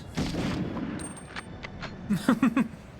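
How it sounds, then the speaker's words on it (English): Several sharp gunshot bursts in the video game Medal of Honor, a loose cluster early and a rapid string of three or four near the end, with game-like effects between them. "Can't hear you over the sound of American gunshots."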